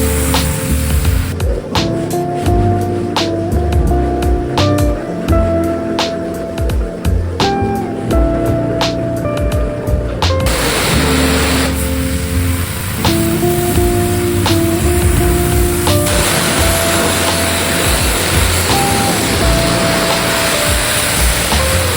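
A water hose rinses a boat's Hydroturf deck mat, producing a loud, steady spraying hiss that runs continuously and close up, shifting in tone as the stream moves across the surface, with no talk.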